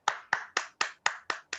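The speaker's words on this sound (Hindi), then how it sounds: "जोरदार तालियों के साथ वेलकम टू मिस्टर स्वतंत्र कुमार सिंह एंड रंजना सिंह" Welcome applause at an entrepreneurs' meet: seven evenly spaced, crisp claps close by, each sharp hit followed by a short decay, with no voices.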